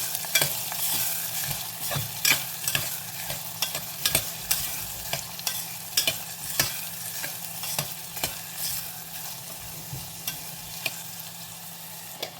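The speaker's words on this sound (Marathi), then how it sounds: "आता हे सर्व आपण तेलावर परतून घेऊया." Onion and curry leaves sautéing in hot oil, a steady sizzle broken by regular scraping stirs of a spoon against the pan, with no voices.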